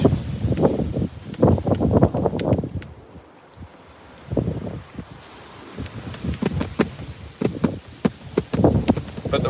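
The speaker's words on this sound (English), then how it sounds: "the wind is blowing" Wind gusts outdoors at night by the water during a fishing trip, buffeting the microphone in loud bursts that drop away briefly mid-clip, with rustling and occasional sharp clicks near the end.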